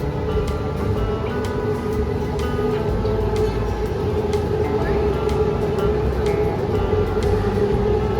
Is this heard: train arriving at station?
yes